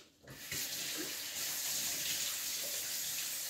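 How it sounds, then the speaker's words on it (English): Steady running tap water splashes into a sink as hands are washed, a continuous close hiss that starts abruptly and holds at an even level, with no talking. "Let me wash my hands right quick."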